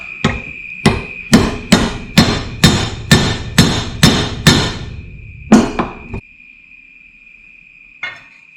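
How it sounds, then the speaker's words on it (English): A copper hammer strikes a Yamaha XS650 motorcycle crankshaft in a workshop: about ten sharp, evenly paced metallic blows ringing with a steady high tone, then a pause and one last lighter tap. "So I reckon I'll just get it started with the copper hammer and then I'll put it in the press."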